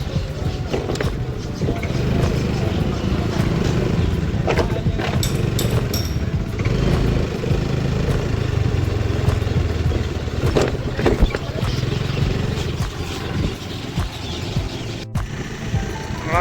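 A Honda Activa scooter rides along a village road, its engine drone and road rumble steady and close throughout, with wind buffeting and people talking over it.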